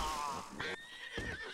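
A horse in Red Dead Redemption 2 lets out a loud, shrill whinny that trembles and then trails off, with a couple of short bursts of game noise around it.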